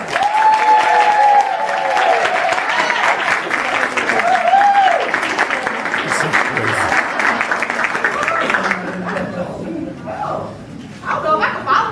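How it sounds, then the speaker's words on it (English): An audience at a book release and signing gives a warm round of applause to welcome a children's author, sustained clapping with some cheering and voices, tapering off before a speaker begins talking. "please join me in giving her a warm welcome and round of applause for the author of It's Bath Time"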